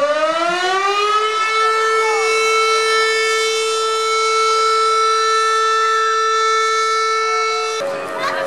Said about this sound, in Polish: Proszę strażaków o uruchomienie syren jako symbol wybuchu Powstania Warszawskiego.